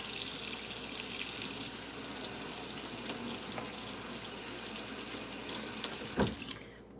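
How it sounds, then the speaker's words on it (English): Hot water runs steadily from a kitchen tap in a home baking setting, an even hiss lasting several seconds before a short splash as it shuts off. "we're gonna run our offset spatula under some hot water"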